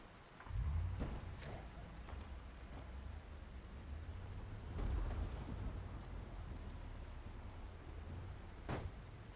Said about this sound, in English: I encountered the worst thunderstorm I have ever seen in PZ